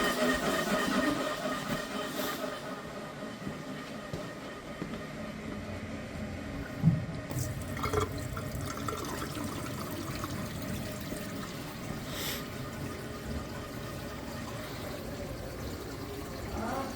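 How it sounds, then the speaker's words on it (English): Water runs steadily into a kitchen sink being checked for backup in a utility drain job, a continuous close wash of noise with a few brief knocks and clatters. "You want me to run water in that kitchen sink?"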